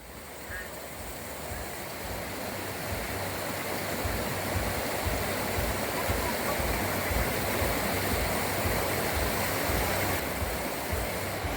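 Steady, dense roar of rushing water from Huai Chan waterfall in Sisaket, Thailand, heard from a bridge, continuous and fairly loud throughout with no breaks.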